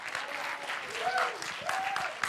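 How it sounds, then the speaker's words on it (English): A room full of people at a WordPress conference clapping steadily, with a few whoops and cheers rising above the applause. "can we get a big round of applause for Yogesh and all the volunteers in here"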